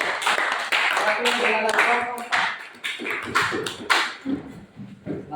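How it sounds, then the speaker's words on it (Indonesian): A classroom audience claps for group 3 after a presentation in an Islamic religious education teacher-training session, scattered handclaps mixing with overlapping talk throughout. "Tepuk tangan untuk kelompok 3"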